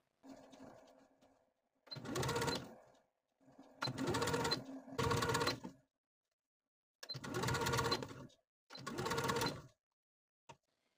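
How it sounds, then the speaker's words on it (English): A sewing machine stitches the neckline facing of an easy tiered dress, running in five or six short bursts of rapid mechanical whirring separated by pauses, with light handling clicks between them. "so just stitch as far as you can get."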